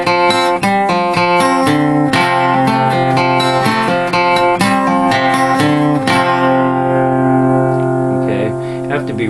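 An acoustic guitar plays bars five and six. Crisp, bright plucked chords and single notes strike in a quick rhythm, then a final chord rings out and slowly decays.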